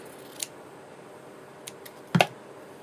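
A pair of scissors snips once close by, a short crisp cut near the end, with a couple of faint ticks before it over a quiet room hiss; no talking.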